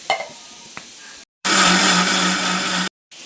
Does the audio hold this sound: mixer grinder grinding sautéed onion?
yes